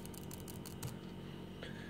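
Worn laptop keyboard keys with a slight crunch pressed close up, a quick run of soft clicks and taps, faint and alone without speech.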